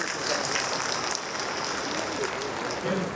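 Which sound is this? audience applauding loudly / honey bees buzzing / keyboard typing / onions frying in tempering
audience applauding loudly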